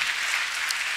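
Church congregation clapping and applauding during a service, a dense, steady wash of many hands throughout with no talk on top.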